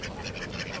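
Ducks at a lake park in Abu Dhabi quack in a quick burst, several nasal calls in a row, close and fairly loud over a busy outdoor background.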